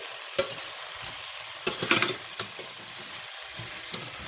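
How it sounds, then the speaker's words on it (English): A utensil stirs an octopus salad dressed with lemon juice, giving soft wet mixing noises with a few sharp clinks against the bowl scattered through, close and fairly quiet. "Now let's stir"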